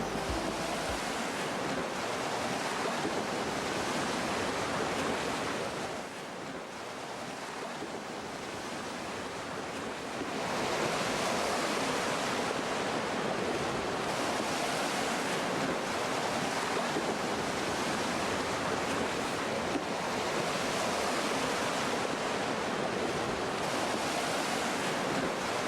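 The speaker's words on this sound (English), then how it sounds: "Ride with us down the whitewater rapids of the New River." Whitewater rapids on the New River in Guyana make a steady, loud broadband rush of churning water that carries on continuously with no one speaking.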